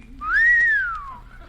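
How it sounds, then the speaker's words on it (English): Wind whistles through an old haunted house, a single smooth, eerie whistle that rises, holds and slowly falls away over about a second, with no talking. "Just listen to the wind whistle through that old haunted house."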